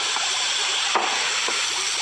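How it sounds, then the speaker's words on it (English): Baking soda fizzes in vinegar inside a pitcher as carbon dioxide comes off. A hissing, bubbly sizzle runs continuously, with a couple of faint splashes. "That fizzing is carbon dioxide gas coming off."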